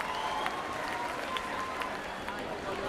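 Dense crowd noise at the Fleadh Derry traditional music competition, a steady wash of audience cheering and applause with scattered claps and whoops, loud and continuous throughout.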